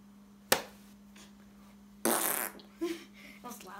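A voice imitates a loud fart with a sharp burst followed by longer spluttering blurts, close and loud between quiet pauses.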